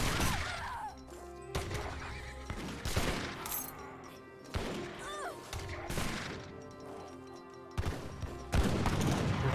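Musket volleys crackle in a busy Age of Empires 3 battle: bursts of overlapping gunfire and impact crashes mixed with horse whinnies and clashing, at moderate volume.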